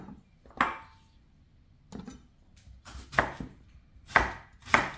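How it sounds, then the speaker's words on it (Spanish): Several sharp knife chops through tomatoes on a cutting board, irregularly spaced with pauses between them, close and crisp with no voices. "Estos tomates los voy a partir así"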